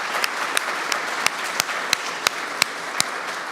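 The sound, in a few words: audience applause for the jury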